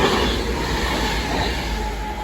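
An Avanti West Coast passenger train rushes through a station at Kings Langley, a loud, steady roar of wheels and rail noise close by.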